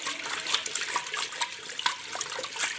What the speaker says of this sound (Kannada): ನಂತರ ಅದಕ್ಕೆ ನೀರು ಹಾಕ್ಕೊಳ್ತಾಯಿದ್ದೀನಿ